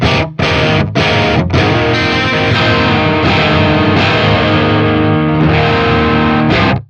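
An electric guitar runs through an amplifier with the gain turned all the way up, giving a saturated, distorted metal tone. Loud, sustained chords ring out with a few brief cuts near the start, and no voice is heard.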